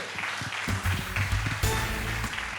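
A studio audience at a magic show applauds the magician Meysen with dense, loud clapping that runs throughout, over a low, steady background tone.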